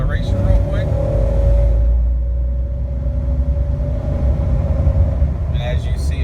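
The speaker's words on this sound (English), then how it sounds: "do a heavy acceleration just so you guys can see that the engine and transmission" A car's engine pulls hard under heavy acceleration on a road, a steady loud drone with a rising tone and a shift partway through, continuous for several seconds.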